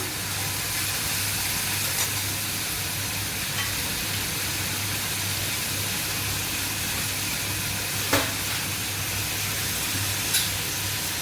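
Masala spices fry in a pan for chana dal with a continuous, even sizzling hiss and low hum throughout, broken only by a few light clinks.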